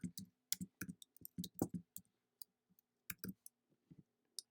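A computer mouse clicks in Cricut Design Space in quick, quiet, close-up taps, some in pairs and small clusters, with short pauses between them.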